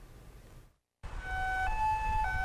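An ambulance siren wails from a 119 emergency vehicle in Korea, steady tonal notes switching pitch over road rumble after a brief silent gap.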